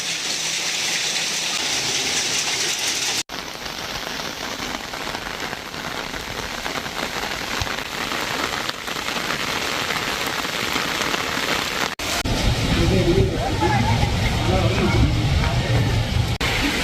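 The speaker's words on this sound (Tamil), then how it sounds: "அதிகாலை 5 மணி முதல் கனமழை பெய்து" Early-morning heavy rain pours over the Vaniyambadi area in Tirupattur district, a loud continuous roar of drops on surfaces that briefly cuts out, then returns as a stronger gushing downpour.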